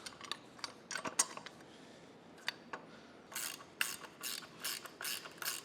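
A ratchet tightens a bolt while an AmeriBrade 2-inch by 72-inch belt grinder is assembled. Sparse clicks come first, then a run of quick, close, crisp ratcheting bursts.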